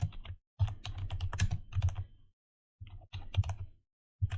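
Python code being typed on a computer keyboard: quick bursts of close, crisp key clicks separated by short pauses, with no voices.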